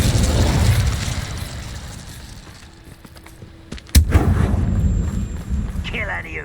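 An Incendio fire spell cast in Hogwarts Legacy lands as a single sharp, loud burst midway, followed by a crackling, rumbling tail, with a voice speaking near the end.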